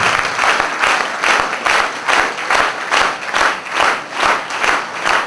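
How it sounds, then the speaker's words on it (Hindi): Applause from an audience at a celebration event, broad clapping surging in regular waves, loud and steady throughout with no talk over it. "जोरदार तालियां।"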